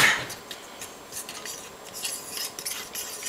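Flour and salt being stirred in a bowl with a utensil, giving light scraping and clinking scrapes close by, soft and irregular with brief louder strokes.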